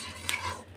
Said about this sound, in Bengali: টক দইও ভালোভাবে কষিয়ে নেব